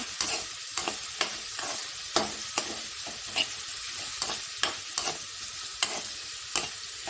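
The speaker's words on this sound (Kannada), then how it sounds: "ಇವಾಗ ನೋಡಿ ಬೆಂಡೆಕಾಯಿ ಮಾಡಿ ಸ್ವಲ್ಪ ಎಣ್ಣೆಲ್ಲದೆ ಹುರಿದಿದ್ದೀನಿ" Okra dry-roasting in a pan without oil, with steady scraping stirs about every half second and a faint hiss beneath, close and moderately loud, no voices.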